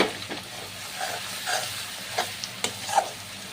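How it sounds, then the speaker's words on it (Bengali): Spice masala for chicken sizzles quietly in a pan while a spoon scrapes and stirs it in short, irregular strokes, close and fairly soft. "এবার ভালো করে আবারও কষিয়ে নিতে হবে।"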